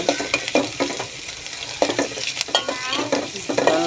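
Ginger, cumin and pepper-cardamom pastes being stirred in a frying pan for biryani, with a busy close sizzle and repeated scraping strokes of a spoon against the pan.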